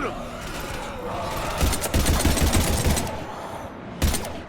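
Gunfire in the video game Mass Effect 3 on Legendary difficulty: bursts of rapid shots rattle through the middle of the clip, with a final sharp report near the end, mixed with game effects and voices.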